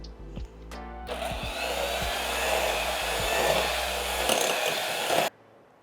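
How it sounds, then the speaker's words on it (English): An electric hand mixer runs steadily through butter pecan cookie batter, a loud continuous motor whir with a few knocks of the beaters against the bowl, starting abruptly and cutting off near the end. "We're going to mix this until it is nice and combined."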